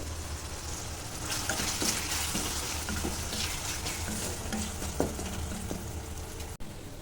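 Chopped small tomatoes fry with salt in a pan, a steady sizzle with occasional stirring scrapes and clinks, close and moderately loud.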